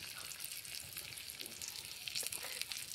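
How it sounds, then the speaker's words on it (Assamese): Onions fry in a pan with a steady, soft hiss and crackle, a continuous low-level sizzle with occasional small pops and stirring scrapes. "এয়া পিঁয়াজ ভাজি আছে"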